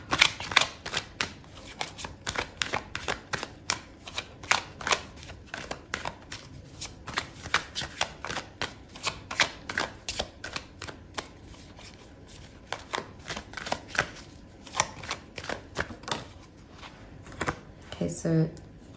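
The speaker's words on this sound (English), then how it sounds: "I'm going to pull out another card for you." Tarot cards are shuffled and drawn in rapid, crisp riffles and slaps close to the mic, a steady run of papery flicks with a few louder snaps near the end while a voice talks over them.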